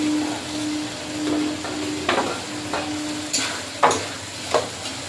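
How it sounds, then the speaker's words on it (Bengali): Fried potato and capsicum go into masala frying in oil, a steady close sizzle broken by several sharp clacks and scrapes from the spoon against the pan. "মশলা থেকে তেল ছেড়ে গেছে, এবারে ভেজে রাখা আলুটা দিয়ে দেবো। ভেজে রাখা ক্যাপসিকামটা দিয়ে দিই।"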